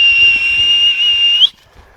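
One sustained, steady whistle, loud and close, sounds for about a second and a half to call a roan horse in a round pen, then cuts off to quiet.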